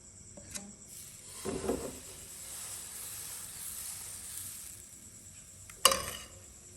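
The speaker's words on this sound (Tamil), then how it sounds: "இதெல்லாம் இப்போ தோசை சுட போகிறேன்" Dosa batter sizzling on a hot iron griddle, a steady soft hiss with a couple of sharper spatters and scraping touches, close and moderately quiet, no voices.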